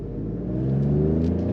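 An Alfa Romeo Stelvio Quadrifoglio SUV accelerates hard on throttle, its engine building into a loud, rising, rumbling growl heard from inside the cabin.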